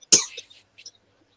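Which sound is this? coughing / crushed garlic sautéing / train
coughing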